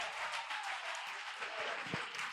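Congregation applauding inside a church during a worship service, steady broadband clapping heard from a short distance, fairly faint and continuous with no voices over it.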